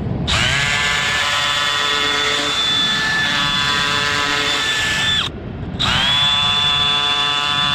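A power drill with a bit boring into a fossil runs loud and close in a steady high whine, stopping briefly near the end before spinning up again.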